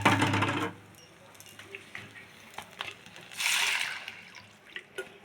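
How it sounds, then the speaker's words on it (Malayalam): Two short gushes of water poured into a pan of brinjal curry, with light clinks and drips between them in a quiet room. "പിന്നെ അതിലേക്ക് കുറച്ച് വെള്ളം ഇടണം"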